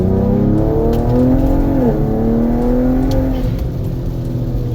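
Car fitted with a 2.5-inch Thermal exhaust revving hard and loud nearby, the engine note climbing and dipping through several swells with a steady rumbling drone underneath, no talking.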